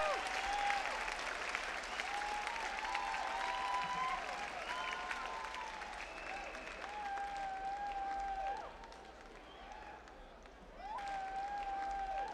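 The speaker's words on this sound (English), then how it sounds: "the crowd lit up" A crowd at a bodybuilding show applauds a posing routine with sustained, dense clapping and cheering that dips briefly before swelling again, while a steady whistle-like tone sounds over it.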